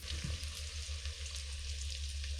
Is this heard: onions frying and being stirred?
yes